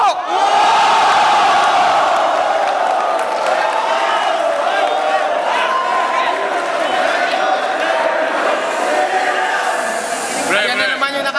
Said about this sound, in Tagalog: Yan na naman yung nakakabinging cheer ng mga crowd sa akin.